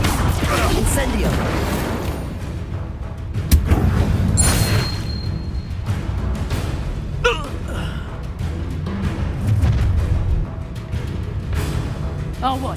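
An Incendio fire spell cast during combat in Hogwarts Legacy: a sharp burst and booming impact amid a noisy battle of whooshes, thuds and magical effects, with voices shouting over the action.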